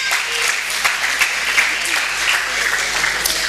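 Steady applause from an audience at a local festival awards ceremony in Lauria, dense and continuous clapping with a few sharper claps standing out, a voice faintly audible underneath.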